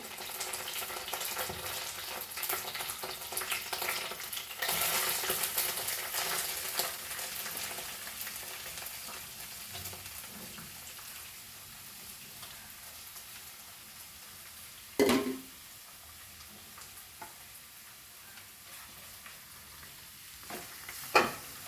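Onions and curry leaves fry for kanda poha, a soft, steady sizzle that fades lower midway, broken by a couple of brief louder stirring knocks.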